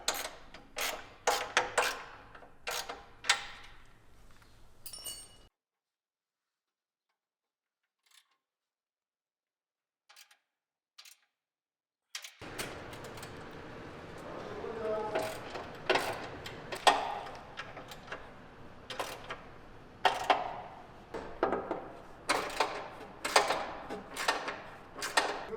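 Mounting hardware being tightened on an ICI Alumilite front bumper fitted to a Jeep Wrangler, a series of close ratcheting clicks in bursts, with a near-silent gap in the middle before the clicking resumes.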